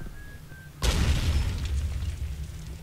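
A single grenade blast in Call of Duty 3 hits abruptly after a quiet moment, a loud deep boom that rolls on and fades slowly with rumbling debris.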